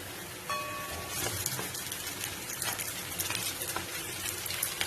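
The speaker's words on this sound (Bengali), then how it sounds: "এবার আমি এখানে দিয়ে দেব ধুয়ে রাখা চিকেনটা" Washed chicken dropped into onions frying in a pan, setting off a sudden loud sizzle that keeps crackling and hissing steadily up close.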